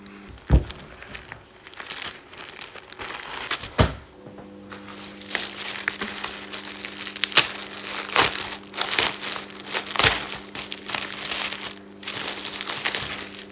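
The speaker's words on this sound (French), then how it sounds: "j'ai des colis à ouvrir, donc je vais ouvrir" Parcels are opened with repeated crinkling, crunching and tearing of packaging, close and fairly quiet, with a steady faint hum in the background and no talk.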